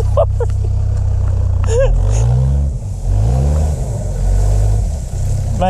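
Overland off-road rig stuck on another vehicle's bumper, its engine revving up and down in close, rough surges, with people talking over the noise.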